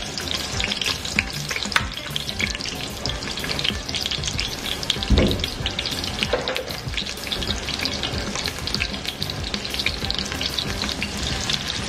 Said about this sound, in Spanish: Cuando está bien caliente, agregamos la cebolla.